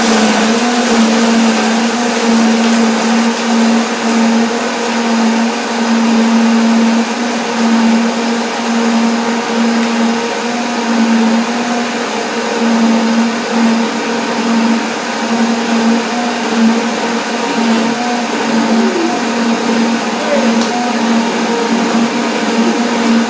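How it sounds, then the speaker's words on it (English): A blender runs steadily and loudly the whole time, a constant motor whine with a strong low hum and no pauses or voices. "after the blender dance."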